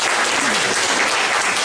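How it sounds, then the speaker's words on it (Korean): A church congregation claps steadily to congratulate a young couple at a Sunday service after a blessing ceremony, a dense continuous wash of applause that fills the room without pause. "축하의 박수 부탁드리겠습니다"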